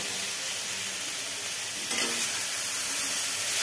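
A paste of cumin, ginger and green chili sizzles and hisses steadily in a hot pan while being stirred for a thin vegetable curry, close and even throughout with no talking.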